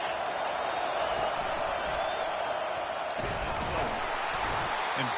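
A stadium football crowd roars steadily behind the defense on a big third down, a dense, sustained wall of cheering at constant loudness with faint thuds.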